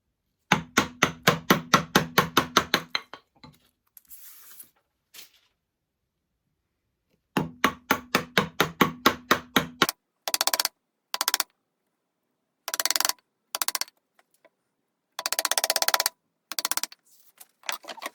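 A chisel chopping waste wood out of a timber halving joint, in bursts of rapid sharp taps, then heavier isolated blows and scraping cuts, close and crisp with short pauses between.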